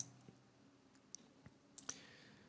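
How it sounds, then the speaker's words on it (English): A handful of faint, sparse computer mouse clicks on a payment button, soft and close against near silence with small gaps between each click. "I am clicking on pay now."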